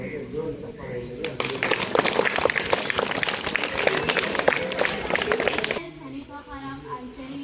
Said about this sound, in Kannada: ಜ್ಯೋತಿಲಕ್ಷ್ಮಿ ಮೇಡಮ್ ಅವರಿಗೆ ಜೋರು ಚಪ್ಪಾಳೆ ಇದೆ.